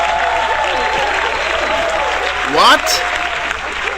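A comedy-show audience claps and cheers, dense applause filling the room at close range, with a voice briefly speaking over it.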